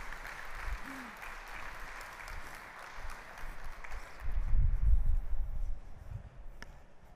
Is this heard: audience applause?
yes